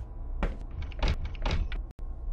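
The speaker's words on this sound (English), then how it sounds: "Okay, so both these doors are locked." Locked door in a horror video game rattling as the handle is tried, three short, close knocking jolts about half a second apart, then a brief click, with no voices.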